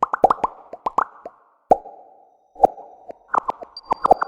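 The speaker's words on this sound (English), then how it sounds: "The Sonograph is an audiovisual instrument designed as a music learning tool for primary schools." Sonograph, an audiovisual image-sonification instrument for primary school music learning, turning drawings and collage into sound: clusters of sharp plucky plopping tones with quiet gaps between them and a faint sustained hum, near and clear.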